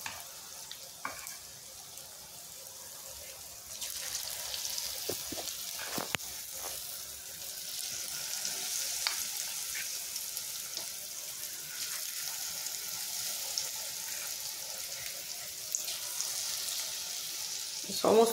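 Chicken pieces frying in oil in a pan over medium heat, a soft continuous sizzle that grows louder partway through, with occasional clinks and stirring noises.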